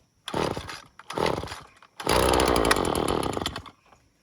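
A Husqvarna 322L straight-shaft two-stroke string trimmer is started by hand: two short pull-start bursts sputter, then the small engine catches and runs loud and buzzing at close range for over a second before easing off.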